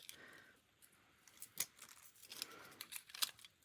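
Scissors snip through a strip of adhesive tape for a paper-craft embellishment, with two or three crisp, close cuts amid light rustling of tape and card.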